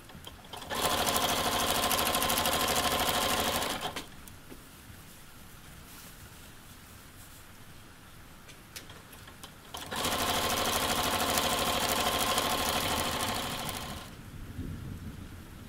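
A sewing machine stitching a hem on a pair of shorts runs in two steady, loud stretches of whirring motor and needle chatter, separated by a quieter pause of several seconds.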